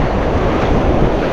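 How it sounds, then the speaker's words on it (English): Ocean surf churns at a beach after a storm, a loud, dense wash of breaking water and wind noise on the microphone, steady and close throughout with no speech. "that wave just got me up to my thighs"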